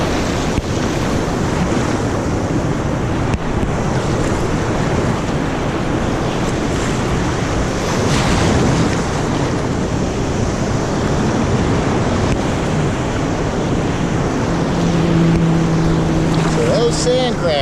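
Ocean waves washing up a low-tide beach and draining back into a sand trench, a constant loud wash with wind noise on the microphone and someone talking over it.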